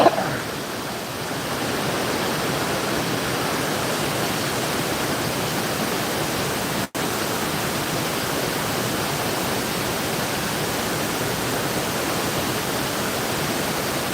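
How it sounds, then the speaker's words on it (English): Roaring waterfall close by on an outdoor walk, a loud, steady broadband rush of falling water with no break, heard alone. "There's more falls right there."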